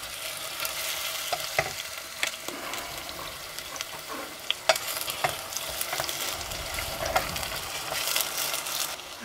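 Onion frying in a hot pan on a campervan stove, a continuous crackling sizzle with scattered scrapes and taps of a utensil stirring, moderately quiet and close.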